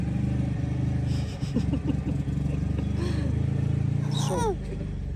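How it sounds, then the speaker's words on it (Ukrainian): A tractor pulls away nearby, its mid-pitched engine droning steadily and then fading as it moves off, with a child and an adult talking over it. "Трактор їде?"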